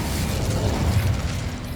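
The Incendio fire spell cast in Hogwarts Legacy, a loud, continuous roaring whoosh of flame with a rumbling, crackling low end that lasts for a moment without pause.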